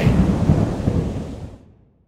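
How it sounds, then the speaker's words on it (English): A heavy thunderstorm roll rumbles loudly and close, a deep crashing thunder burst with rain hiss that swells briefly and then dies away to silence within about two seconds. "a terrible storm came."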